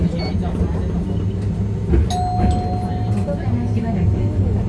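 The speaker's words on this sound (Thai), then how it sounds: "คนจะลงสถานีต่อไปก็กดกระดิ่งค่ะ" A Kyoto tram's stop request bell sounds once as a short, clear electronic tone, heard inside the moving tram over the low rumble of the ride.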